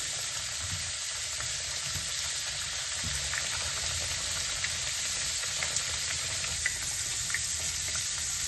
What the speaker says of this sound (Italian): andiamo con delicatezza a friggere le nostre patate